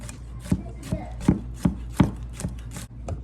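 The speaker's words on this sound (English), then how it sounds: "I'm just gonna chop up some garlic" A kitchen knife chopping garlic on a board, about eight crisp, evenly spaced knocks in a steady rhythm, close and fairly clear, with no talk.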